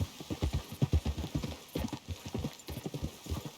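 Rhythmic clip-clop of horse hooves trotting on a hard surface in Red Dead Redemption 2, steady and fairly close, with a brief pause midway.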